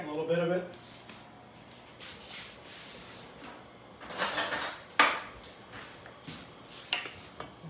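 Roux goes into a pot of milk that is close to boiling, with scraping and clinking of a utensil against the metal pot, sharpest in a few bursts near the middle. A person talks over it.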